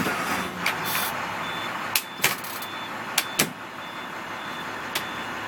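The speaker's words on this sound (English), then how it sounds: "What you beeping for?" A vehicle's reversing beeps sound in short bursts over a steady engine rumble, with a few sharp clicks scattered through.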